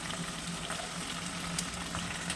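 Radish chutney ingredients, including radish, radish leaves, tomatoes and green chillies, cooking in oil with a steady, dense frying sizzle and faint bubbling, close and quiet, no talking.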